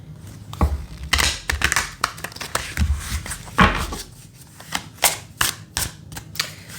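Tarot cards being shuffled, handled and drawn, a run of close, sharp taps, flicks and soft slaps in an irregular rhythm, with small pauses between bursts.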